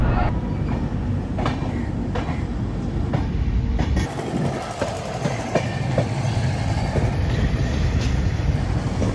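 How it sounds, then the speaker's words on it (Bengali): An old passenger coach rolls along the rails between Abu Road and Jaipur, giving a steady loud rumble from inside the carriage with a few sharp wheel clicks over joints and no talk. "এই ট্রেনে কিন্তু আমরা মাউন্ট আবু থেকে জয়পুর যাব এই হলো ট্রেনের ভেতরটা"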